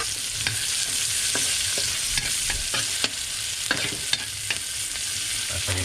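Garlic and onion sautéing in a pan, a loud, steady hiss of frying with scattered stirring scrapes and taps close by.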